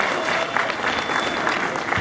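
Audience applauding as a jury member is introduced at a local talent contest, steady dense clapping throughout the short stretch with no voice over it.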